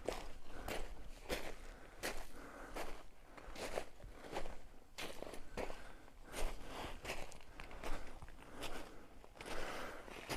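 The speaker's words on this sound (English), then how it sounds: "there's a certain sound of walking on a pile of cinders." Footsteps crunch across a loose pile of volcanic cinders at a lava field between cinder and spatter cones, a steady series of close, gritty crunches in a quiet outdoor setting.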